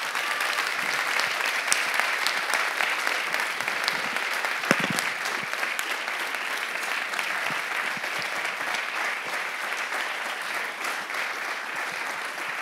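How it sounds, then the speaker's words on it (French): A large audience at an awards ceremony claps steadily and loudly, a dense, even wash of applause that carries on without break. "Sous vos applaudissements."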